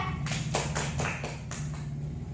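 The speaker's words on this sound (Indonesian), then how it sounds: "Tepuk tangan ya" Women clapping hands together in a health and nutrition session for pregnant mothers, about six distinct rhythmic claps in a row over a steady low hum, close by and moderately loud.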